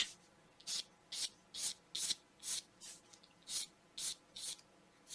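Pencil strokes sketching a heart outline on paper for a scrapbook page, a run of about ten quick, evenly spaced scratchy passes, close and fairly quiet, with no talking.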